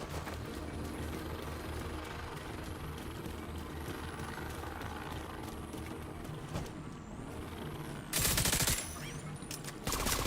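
Rapid light machine gun fire in a video game, a dense steady stream of shots under a busy mix, with a louder burst near the end.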